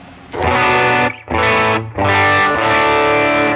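Overdriven electric guitar chords through an HX Stomp with fairly dark amp tones ring out in three sustained bursts, separated by brief gaps, loud and close with a thick distorted tone.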